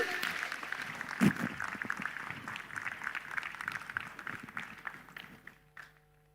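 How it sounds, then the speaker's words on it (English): Conference audience applauding at an investment summit closing ceremony, moderate crowd clapping that gradually thins and fades out, with one louder nearby thump early on. "A round of applause, ladies and gentlemen"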